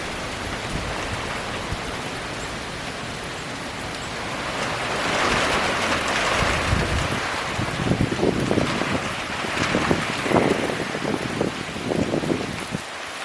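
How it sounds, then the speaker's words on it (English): Wind gusts and rain batter a REI Passage One tent, a broad steady rush swelling midway with irregular flapping and pattering, loud and close, with no talk. "Best gust of wind we've had for a bit."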